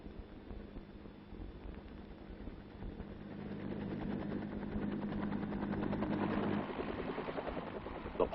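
Military helicopter approaching a jungle landing zone, its rotor thump building steadily louder over several seconds into a close, dense chopping roar, with a faint voice briefly underneath.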